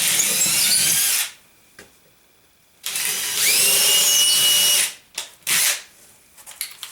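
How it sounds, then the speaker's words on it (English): Power drill with a 1/8 inch bit boring a starter hole into a steel stud: two loud whining bursts separated by a pause, the second rising in pitch, followed by short blips. "this 1/8 inch bit would be a good one to put a starter hole through each stud"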